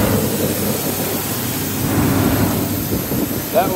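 A 2002 GMC Sonoma engine running after years parked, a steady rumbling idle heard close by, loud and even, with a brief faint voice near the end.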